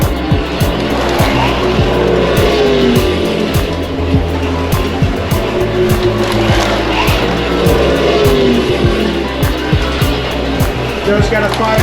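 Slot cars run at a slot car raceway with a steady loud motor whine, rapid clicking of cars over the track and whirring passes, while voices call out throughout.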